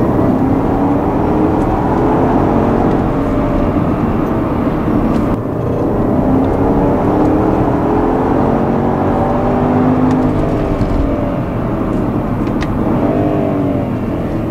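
A 2011 Porsche Panamera Turbo engine pulling hard in third gear, a loud, steady mechanical drone whose pitch climbs smoothly as it accelerates, with no one talking.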